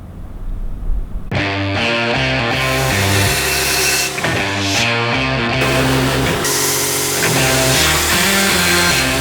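A steel knife blank is cut out with a power tool, giving a loud, close, harsh whine that shifts pitch as the load changes and pauses briefly a few times, with no talking.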